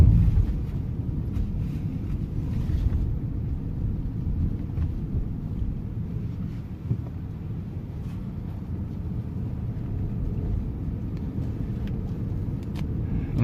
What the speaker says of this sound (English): This is what it's like to drive in the city, in the streets.